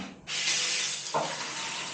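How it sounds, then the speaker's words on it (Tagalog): A campsite shower room's shower runs with a strong, steady hiss of water that starts abruptly and continues unbroken, close and fairly loud. "Gumagana ang shower. Kita nyo naman. Malakas ang tubig."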